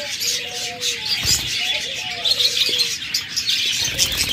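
Lovebirds at a clay breeding pot give short, scattered chirps and tweets over a busy, constant background of other birds, fairly close, with no voices.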